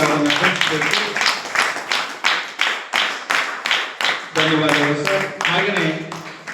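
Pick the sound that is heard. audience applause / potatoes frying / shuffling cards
audience applause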